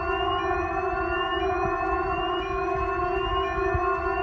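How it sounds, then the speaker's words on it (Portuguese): A loud, continuous wailing siren drones steadily in a Backrooms video game, its tones holding level and slowly rising without pause or any voice. "Tem uma sirene muito alta de fundo."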